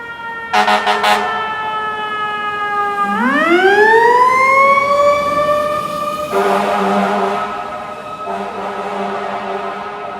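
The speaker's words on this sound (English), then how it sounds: "here comes another fire engine" A fire engine siren wails through a snowy Manhattan street, loud and close, sweeping up into a long rising tone before cycling into repeated steady wails with traffic noise beneath.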